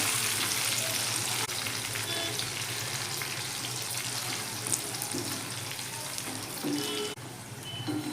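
Banana chips frying in hot oil give a steady, dense sizzle that runs throughout, close and fairly loud, with faint clinks and stirring now and then and no talking.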